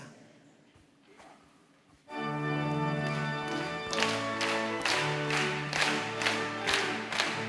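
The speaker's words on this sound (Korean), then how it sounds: "우리의 기도에 들응답하신 하나님께 박수로 영광 올려드리겠습니다." Prayer meeting congregation clapping to glorify God: after a quiet opening, music kicks in and the crowd claps along in a steady rhythmic beat, loud and close over sustained instrumental tones.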